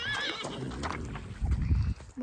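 A horse gives a high, wavering neigh up close, followed by low snorting and shuffling thuds.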